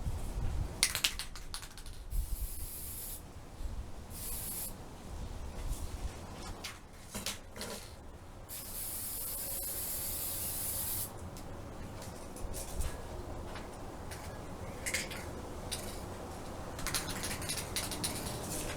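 Spray paint applied in light passes to a dollar store mirror jar: repeated short hissing bursts, separated by brief gaps and some small handling clicks, close and fairly quiet, with no talking.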